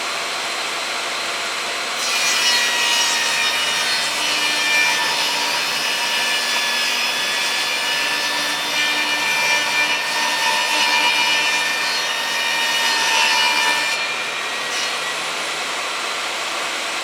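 Wood being sawn to cut a bevel for an arcade cabinet project, a steady whirring rasp that holds for about twelve seconds over a constant background hum.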